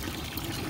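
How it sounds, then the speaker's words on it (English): Water from a garden hose routed through a skeleton's mouth in a yard Halloween display pours in a steady, continuous splash, close and moderately loud, over a brief moment. "got the water, the hose coming through his mouth here"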